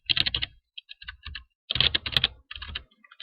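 Close typing on a computer keyboard comes in quick bursts of clicking keystrokes separated by short pauses, with no voices.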